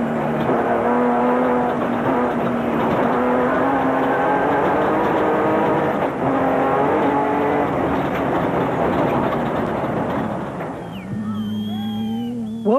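A rally car races flat out in the 2004 Toyota 1000 desert race, its engine roaring loud and continuous with shifting pitch, then easing near the end as whining tones come in.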